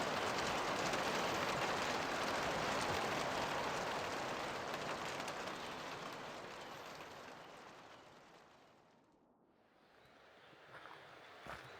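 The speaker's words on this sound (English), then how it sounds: "As we went to sleep, it began to rain." Rain falls at night during a tramping trip on the Caples-Greenstone circuit, a steady dense hiss that slowly softens and dips almost away near the end before rising a little again.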